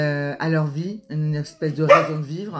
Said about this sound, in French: c'est mon chien qui aboie